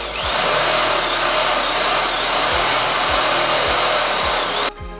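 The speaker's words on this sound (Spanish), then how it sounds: "marco los 18 centímetros por afuera y empiezo a taladrar" A power drill bores a hole through the side of a plastic box, giving a loud, continuous whine close by with a few rhythmic low thumps beneath, cutting off abruptly at the end.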